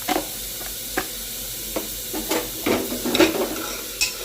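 Food seasoned with salt and turmeric being stirred in a pan, with a soft sizzle beneath scattered scrapes and clinks of the spoon, close and without voices.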